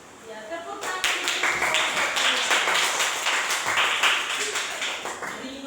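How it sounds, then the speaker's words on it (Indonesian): Students in a classroom clapping for a classmate's presentation, rhythmic unified claps building after a short pause and continuing steadily, with voices underneath. "tepuk tangan"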